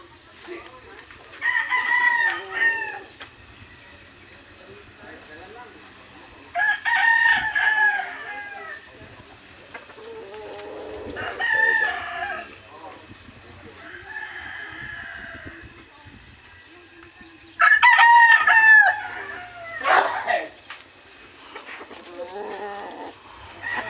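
A young gamecock crows repeatedly in a backyard, four or five loud, drawn-out calls spaced several seconds apart, with softer clucking and a voice talking between them.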